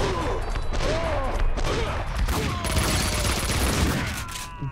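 Heavy, continuous gunfire in a video game, dense overlapping shots with whizzing ricochets and some booming impacts, loud throughout under faint speech.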